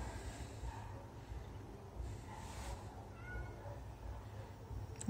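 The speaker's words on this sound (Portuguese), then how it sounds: "Um gato miando." A cat meows a few times, fairly faint, beside a running LG 17 kg washer-dryer that keeps up a steady churning rumble in the background.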